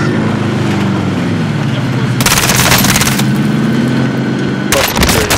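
Rapid automatic gunfire in Warzone Caldera rattles loud and close in two sustained bursts over a droning aircraft or vehicle hum, with a player talking beneath the shooting.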